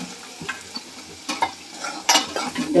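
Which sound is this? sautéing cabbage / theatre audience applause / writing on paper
sautéing cabbage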